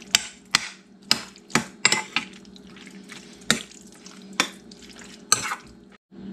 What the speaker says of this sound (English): Get that stirred up good.